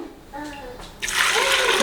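Hot water gushes from a vessel onto rice for turkey biryani, starting after a moment of a voice talking. The pour is a loud, close, steady rush that continues to the end.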